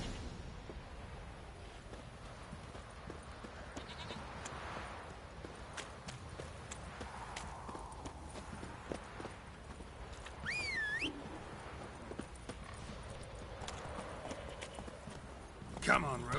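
Roach, the horse in The Witcher 3, clip-clops along a hilltop path toward a shrine, a steady walking rhythm of hooves under game ambience with a voice speaking over it and a brief whistle-like tone near the end.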